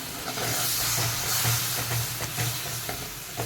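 Amti in a pot with tamarind pulp stirred in, giving a steady close hiss and sizzle with soft scraping from the stirring, with no voices.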